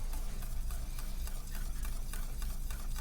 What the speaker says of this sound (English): now we're going to whisk this in